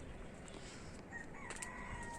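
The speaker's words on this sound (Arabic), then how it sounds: "هاي الطيور" Rooster crowing among birds kept on a rooftop, a faint, hoarse call rising over steady outdoor background noise, with no talk.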